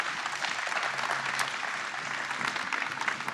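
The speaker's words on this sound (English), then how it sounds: "Round of applause for Chris." Audience applause at a live beer-industry talk before the Great American Beer Festival, a steady, moderately distant wash of clapping that holds evenly for a few seconds.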